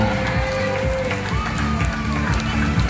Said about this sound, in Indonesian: Ibu kita berikan tepuk tangan ucapan selamat datang.